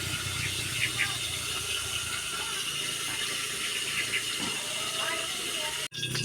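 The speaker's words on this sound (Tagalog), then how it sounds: "Prito po ako ng isda." Fish frying in oil on a provincial home stove, a steady sizzling hiss running throughout with faint background voices and a brief dropout near the end.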